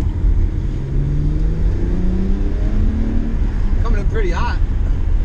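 Road and engine noise fill a moving supercharged vehicle's cabin in a loud, continuous rumble with a faint rising whine.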